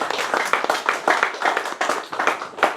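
A church congregation applauds together, a steady crowd of hand claps falling into a loose rhythmic pulse, full and close throughout the short burst.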